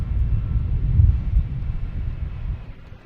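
A JetBlue Airbus A321 airliner lands at Boston Logan, its low engine roar rumbling steadily from a distance, mixed with wind buffeting the microphone, then slowly fading.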